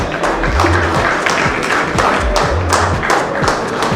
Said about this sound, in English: Let's have a round of applause for the team.